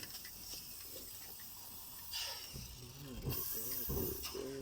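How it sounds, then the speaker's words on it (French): A spray paint can hisses onto a car door during a home car build, a steady close spray with louder bursts and brief voices breaking in toward the end. "Vider cette bombe de peinture sur cette porte."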